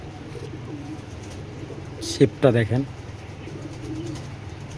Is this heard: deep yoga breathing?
no